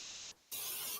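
Cooking oil is sprayed from a can onto pastries made with leftover turkey, two short hissing bursts close to the mic with a brief pause between them.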